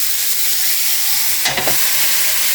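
Slightly frozen meat cutlets sizzle on an electric grill, a steady frying hiss with a brief louder burst of spitting and crackle midway, close and alone.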